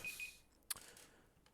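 A phone alarm gives a short high electronic beep, then a sharp click-like burst, faint against quiet background noise.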